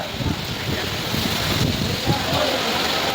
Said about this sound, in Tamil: ஜாலியா ரோட்டில் மழை வருது